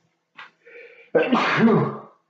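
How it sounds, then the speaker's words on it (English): A single sneeze: a short sharp intake, a brief breathy lead-in, then a loud explosive burst lasting about a second, close and alone. "I might have to sneeze."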